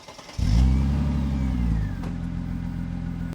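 A car engine cranks and catches, surging loudly at first before settling into a steady, lower idle close by.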